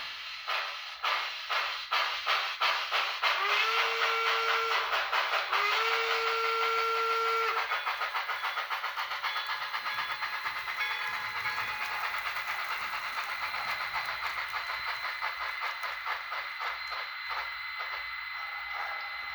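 A model steam locomotive, a Bachmann Spectrum 2-6-6-2 with a SoundTraxx Tsunami 2 sound decoder, chuffs steadily with hissing steam and a brief two-tone whistle early on, the rhythmic puffing continuing loud and close throughout.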